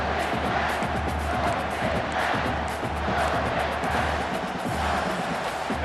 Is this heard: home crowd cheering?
yes